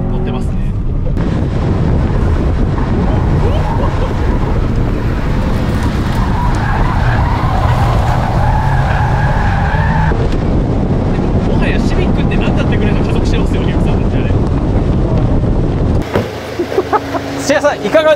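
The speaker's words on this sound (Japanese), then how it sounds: "今スプーンの新型タイプ R に乗ってますね。" A new Spoon Honda Civic Type R is driven hard at speed. A loud, continuous roar of engine and tire noise fills the whole stretch, with rough scrubbing texture suggesting the tires skid, before it cuts abruptly near the end.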